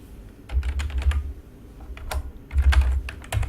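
Someone typing on a computer keyboard while writing Android code: two close bursts of quick, light keystroke clicks separated by a brief pause.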